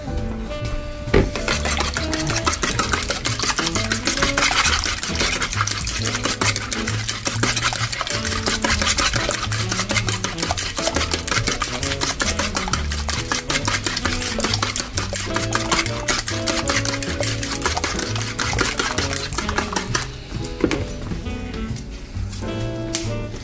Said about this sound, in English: Mix those up.